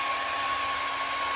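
A cheap $9 handheld blow dryer runs continuously at a steady, close, loud whoosh with a constant tonal whine, used while prepping a flea market chair for painting.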